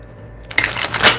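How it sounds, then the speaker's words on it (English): A deck of tarot cards being shuffled, with a quiet lead-in giving way to a burst of rapid papery riffling and flapping that swells toward the end. "Let's keep shuffling."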